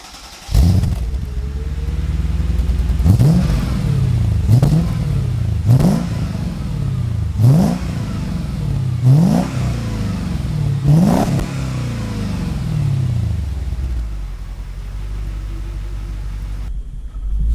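A car fitted with a custom exhaust revs repeatedly while driving: six or seven loud rising engine surges in steady rhythm over a constant low rumble, then settling to a quieter idle-like drone.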